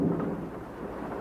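Steady driving rain with a low thunder rumble, heavy and close at first and then settling into a continuous wash of rainfall on a cold night in wartime trenches.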